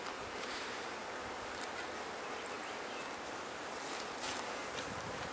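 Honeybees buzz around two newly installed hive colonies, a dense, steady hum of many insects close by, with a few brief louder passes.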